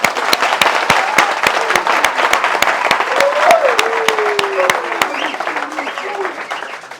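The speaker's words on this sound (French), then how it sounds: "Je voudrais que vous applaudissiez pour ça." Audience applause at a thank-you gathering for residents of Makélékélé: steady, dense clapping sustained throughout, loud and close, with a voice speaking over it and the clapping fading slightly toward the end.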